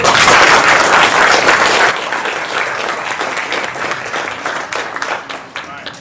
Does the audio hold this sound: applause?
yes